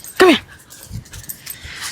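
A dog gives a brief, high, whining whimper near the start, followed by faint panting breaths, with people talking over it.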